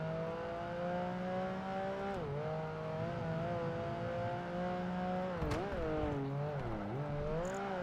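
A Honda NSX engine in the racing game Project Gotham Racing 2 drones continuously as it rises and falls in pitch through several shifts and throttle changes, with an unusual tone.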